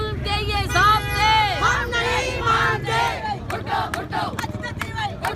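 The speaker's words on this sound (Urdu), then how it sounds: "دھرنے میں شریک خواتین نے شدید نعرے بازی کی۔" Women protesters of a party ladies' wing chant slogans loudly in unison outside the Sukkur Press Club, the rhythmic call-and-response close and forceful, with crowd noise and a little street sound beneath.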